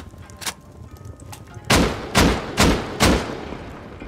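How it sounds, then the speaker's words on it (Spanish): Gunfire in the survival video game Rust: a couple of quieter early shots, then four loud sharp reports spaced about half a second apart, close and with no talk over them. "le pego un tiro, ¿eh?"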